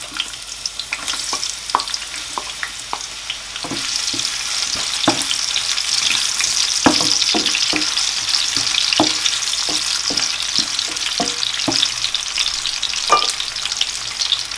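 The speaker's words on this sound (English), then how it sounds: "So I've added my oil, my vegetable oil, and I'm gonna leave it to get hot. So guys, I'm going to add my onions." Onions frying in hot vegetable oil for Nigerian beans and plantain, a loud steady sizzle with repeated sharp clinks and scrapes of stirring, close by, with no talking.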